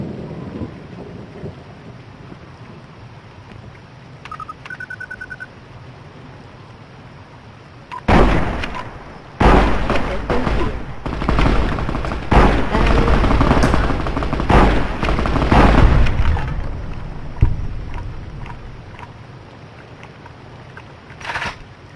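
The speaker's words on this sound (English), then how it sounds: "She put a light machine gun in the hands of Cass, I think." Light machine gun fire in Fallout: New Vegas, loud sustained rattling bursts with brief pauses after a quiet stretch with a couple of small beeps.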